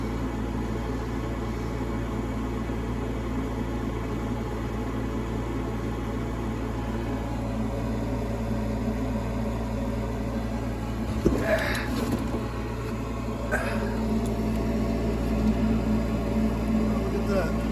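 An attic furnace's inducer motor hums and whirs steadily at a constant low pitch, with a few brief clicks and rattles near the end.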